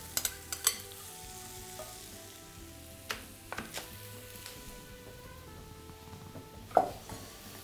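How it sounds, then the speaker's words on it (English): Peppers and onions go into a roasting pan with mushrooms already cooking for a tofu and vegetable roast. A faint, low sizzle runs under scattered light clicks and clinks of utensils, with a sharper knock near the end. "Next, I'm just gonna add the peppers and onions right to it."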